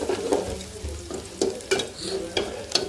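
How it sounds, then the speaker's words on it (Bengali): Onions frying in oil in a pan while being stirred, a crackling sizzle broken by repeated scraping strokes of a spoon about every half second, close and fairly loud. "এরপরে আমি মাছের জন্য পেঁয়াজ আর তেল দিছি।"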